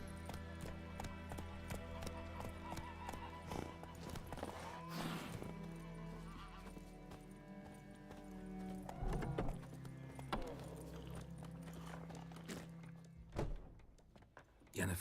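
Roach, a horse in the video game The Witcher 3: Wild Hunt, clops along with a steady run of hoof thuds over a droning game soundscape, with several heavier thumps and no speech.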